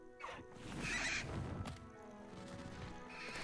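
A horse-bird creature in Hogwarts Legacy lets out a loud, drawn-out whinny over game music and rushing ambience, followed by further lower snorting sounds.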